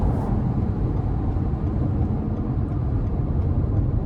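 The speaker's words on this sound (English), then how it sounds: "I can hear the road noise just a little bit on this stretch of pavement" Low, steady road rumble and wind noise inside a 2025 Toyota RAV4 LE FWD on the move, a constant muffled drone with no voices.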